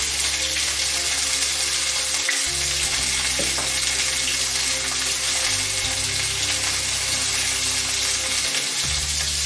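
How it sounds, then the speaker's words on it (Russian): Sliced onions with salt and sugar fry in a pan, giving a continuous dense sizzle that stays loud and even throughout, with a low background hum and no talking. "пока лук обжарится на одной стороне, а потом переворачиваем на другую сторону"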